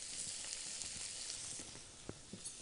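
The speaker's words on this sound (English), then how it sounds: "Water is boiling." A pot of water bubbles and hisses on a kitchen stove, ready for sweet potato gnocchi, a steady soft rolling boil with scattered small pops, no voices.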